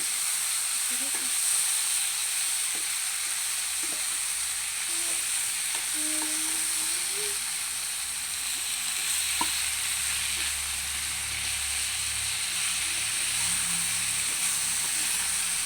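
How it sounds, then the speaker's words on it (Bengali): Pieces of elephant apple fry in a pan with a constant hiss and sizzle, under occasional soft stirring scrapes and faint background murmurs. "চালটাগুলো একটু নাড়াচড়া করে নিব"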